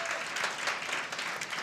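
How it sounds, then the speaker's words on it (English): A church congregation claps steadily for a mother at her son's baptism, a dense, even patter of many hands held at one level for the whole span, heard from a moderate distance without speech. "so we'll give a round of applause"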